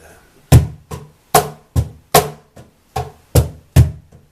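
A cajón plays a blues groove of sharp slaps mixed with deep bass hits, the bass added on the last strike of beats two and four. About a dozen hits fall in a steady swing, close and dry.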